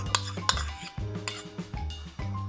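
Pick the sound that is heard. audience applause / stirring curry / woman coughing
stirring curry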